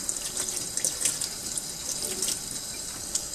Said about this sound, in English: rinse it off under some warm water.